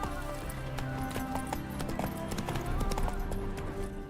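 A horse gallops in The Witcher 3 Wild Hunt, hooves clip-clopping in a quick, steady rhythm close by, with game ambience and a voice underneath.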